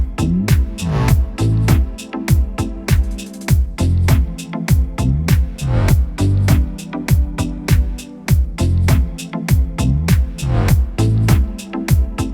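A Korg Pa5X arranger keyboard plays a breakdance-style beat, with punchy, loud kicks and snares in a steady, busy groove layered with bass and synth stabs, sounding alone.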